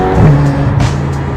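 Engine note of a Ferrari California T rising under brief acceleration, a loud, close, steady drone with harmonic tones climbing in pitch, heard alone without talk.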